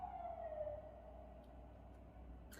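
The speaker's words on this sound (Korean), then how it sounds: "사이렌이 울리네요." A siren wails at a distance, its falling tone sliding down and fading beneath a low background hum, with a few faint clicks near the end.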